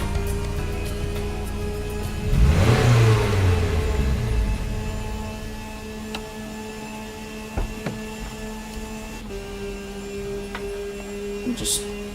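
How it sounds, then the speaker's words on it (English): A Porsche race car engine drones in the NASCAR 4 racing simulator during a Le Mans event, holding a steady tonal hum with one loud rising and falling sweep early on, then settling back into a constant mechanical whine. "this Porsche engine likes to rev high, like all the power's in the high revs"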